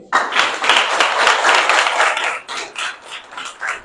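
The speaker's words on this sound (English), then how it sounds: "Clap for him." A group at a school celebration applauds steadily for a few seconds, the clapping thinning into scattered claps near the end.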